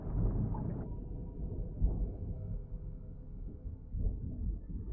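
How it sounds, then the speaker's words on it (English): A heavy thunderstorm in the submarine game Barotrauma: a continuous low rumbling roar with rolling swells and gusts, steady and fairly loud, with no speech. "And a very nasty thunderstorm."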